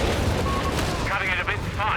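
17-pounder anti-tank guns firing in a Company of Heroes 3 battle, a dense wash of booming shots and artillery rumble that runs steadily throughout, with battle chatter mixed in.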